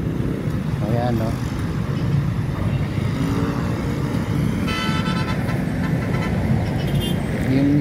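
A jeepney plying the Baclaran–Sucat route rumbles past on a busy road, with steady engine and traffic noise, a brief horn toot near the middle and a person talking over it.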